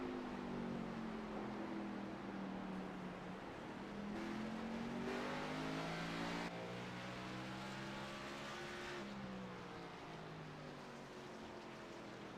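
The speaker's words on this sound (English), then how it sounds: "You'll get to hear these sounds and sights of the racetrack and hear that sweet race car noise." Xfinity Series race cars at a racetrack: loud, steady engine roar with rising and falling pitch as the cars rev and sweep past, filling the whole clip with no talk.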